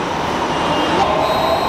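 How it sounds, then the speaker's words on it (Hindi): Mumbai Metro Line 2A train pulling into a station, a steady close rail rumble and rolling hum with a thin high squeal rising near the end. "तो ये आ गए हमारे मेट्रो आरे, क्या बात है।"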